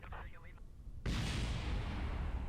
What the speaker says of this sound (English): at least we get to see some explosions